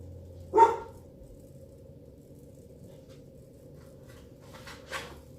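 A dog barks in short bursts, one sharp bark near the start and a fainter one near the end, with quiet background hum in between.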